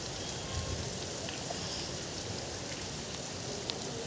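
Rain falls steadily as a soft, even hiss, with no breaks and only an occasional faint drip.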